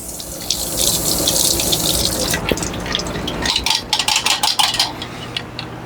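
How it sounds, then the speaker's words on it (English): A container is rinsed under a running kitchen tap: a steady rush of water, then uneven splashing and sloshing with light clinks as the water swirls around inside. "I'm just going to rinse this out real quick."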